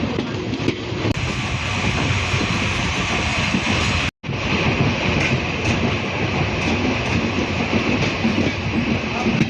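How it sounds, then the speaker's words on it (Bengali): The 747 Up Simanta Express from Khulna pulls into Chilahati station, a steady loud rumble of rail cars with rhythmic wheel clatter filling the scene, broken by one brief dropout midway. "চিলাহাটি অভিমুখী 747 আপ সীমান্ত এক্সপ্রেস চিলাহাটি প্রবেশ করতেছে"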